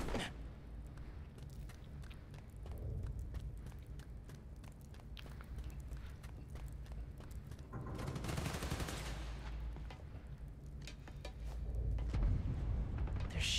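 Faint, steady gunfire rattles through a Marvel's Spider-Man: Miles Morales game scene, rapid distant bursts with occasional heavier thumps and a continuous low rumble.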